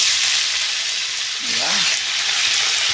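Cabbage hitting a hot frying pan with sautéed onion, a loud steady sizzle throughout with a brief low scrape or clatter midway, no talking.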